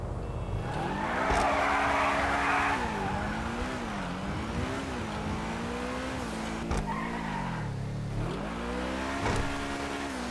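Truffade Nero, the game's version of a Bugatti Chiron, being driven in GTA: a rising and falling engine note through repeated gear changes, with tire screech in bursts, heard alone with no talk.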